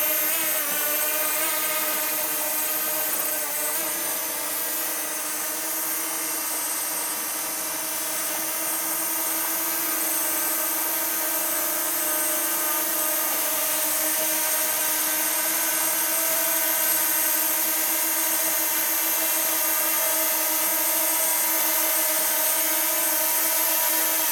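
A DJI Mavic Mini drone fitted with Best Buy propellers hovers in the open, its steady high-pitched propeller whine and harmonic buzz continuous and close throughout, with no talking.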